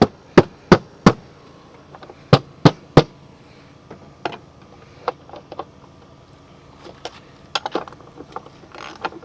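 A Hayward pool cartridge filter is beaten on, giving sharp, loud knocks in quick clusters of three, then sparser softer taps and light mechanical clatter, with no voice.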